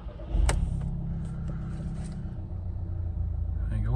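A 2013 Audi TT Quattro engine starting, a sharp crank at the start settling into a steady low idle rumble, close and fairly loud inside the car.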